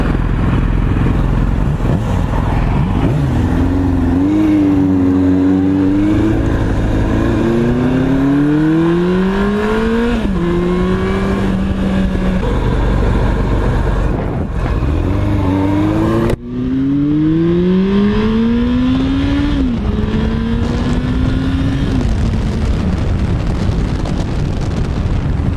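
Yamaha R1 and R6 sportbike engines rev loudly and repeatedly, the pitch sweeping up toward the rev limiter and dropping back in several close, powerful bursts with no talking.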